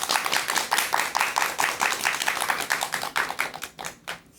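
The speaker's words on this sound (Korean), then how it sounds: "큰 박수 부탁드립니다." An audience at a Korean lecture event claps for a professor's talk. The dense, even applause is sustained for several seconds and thins into scattered final claps.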